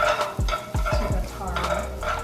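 Taro being mixed with shallots in a pan for Vietnamese egg rolls: a few distinct scraping stirs and utensil knocks against the pan over soft frying, close and fairly loud.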